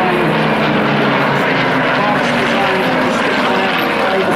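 A Hawker Hurricane at the Clacton air show roars loud and steady as it passes, a continuous broad engine drone with a voice talking over it.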